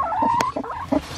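A hen with her newly hatched baby chick, giving short, close clucking and warbling calls in a brief run of soft vocal bursts, loud and near with no talking.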